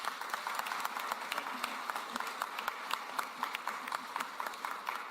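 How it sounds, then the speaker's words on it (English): Moderate applause from an audience at a live council event, a steady patter of claps with sharper individual hand claps near and a faint murmur underneath. "Give him a round of applause, please."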